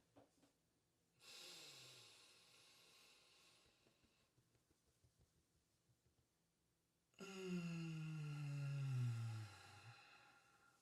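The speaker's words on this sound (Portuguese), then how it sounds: "Então olha uma respiração pela barriga, ó." A person demonstrates belly breathing, with a long audible inhale followed after a pause by a louder, drawn-out exhale that carries a slight voiced, snorting tone, close and alone without speech.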